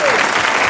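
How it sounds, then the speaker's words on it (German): A studio audience claps steadily at a German comedy show, with dense, loud, even applause filling the room throughout. "Ihr Applaus."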